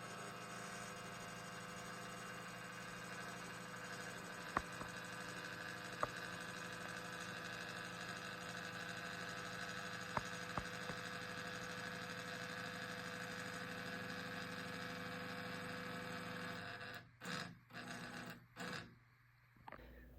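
Homemade CNC plasma table with Arduino-driven motors moving slowly, a steady low motor hum and whine holding for most of the time, broken by a few faint clicks and ending in choppy bursts.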